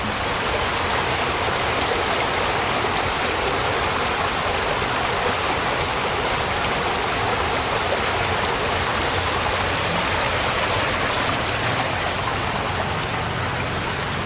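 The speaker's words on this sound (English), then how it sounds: "Let you listen to some trickling water here for a moment." Water from a public fountain runs in a steady, dense trickle and splash. The sound is continuous and fairly close, with no voices.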